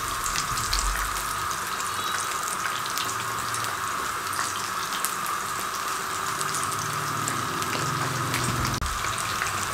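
Onion and potato pakoras frying in hot oil on a medium flame, a steady dense hiss and sizzle that holds at an even, close level throughout with no talk over it.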